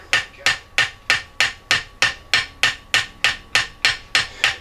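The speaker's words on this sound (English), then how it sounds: "So I'm going to tap it in a little," A steel hammer taps on a rifle muzzle of a Shiloh Sharps 45-70 Model 1874, about fourteen crisp, evenly spaced metallic blows close up with a bright ringing edge.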